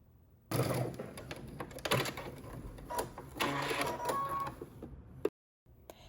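A sewing machine stitching overlapped elastic on a skirt whirs in short mechanical bursts, close by, with rattling clicks and a sudden stop near the end.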